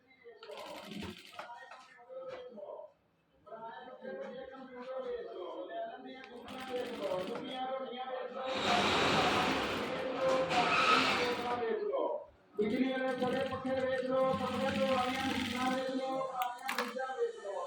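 An automatic sewing machine stitches a fabric strip in bursts, its motor whirring and rattling at close range with short pauses between runs, and someone talks throughout.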